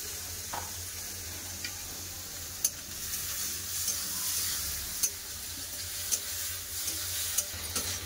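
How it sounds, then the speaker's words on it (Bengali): Prawns fry in hot oil with turmeric and salt, giving a soft, continuous sizzle with scattered sharp ticks and pops from the pan, and no one speaks. "চিংড়ি মাছ ভাজা হয়ে গেছে, চিংড়ি মাছ তুলে নেবো।"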